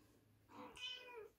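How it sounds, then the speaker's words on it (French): A house cat gives a single drawn-out meow indoors in a scrapbooking craft room, soft and fairly close against a quiet background, with no talking during the call. "pourquoi tu miaules?"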